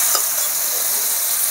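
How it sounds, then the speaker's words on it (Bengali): Spice paste of onion, whole cumin and whole chilli frying in a pan while being stirred, giving a steady close sizzle with soft scraping throughout and no talk. "এবার ভালো করে নাড়াচাড়া করে নেব।"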